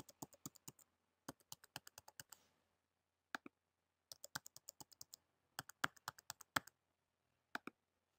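Typing on a computer keyboard: quick bursts of crisp key clicks separated by short pauses, close and isolated against a quiet background.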